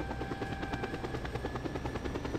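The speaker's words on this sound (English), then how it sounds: "we're supposed to attach the statue head to this helicopter. And we will fly it in" A helicopter in the Just Cause 2 video game, its rotor beating in a steady rapid thump over a continuous engine drone, loud and close throughout.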